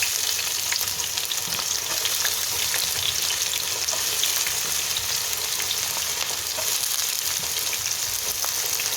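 Cumin seeds, mustard, fennel and onion sizzling in hot oil as the base of a mutton curry, a dense, even, loud crackle held without a break throughout, and no one speaking.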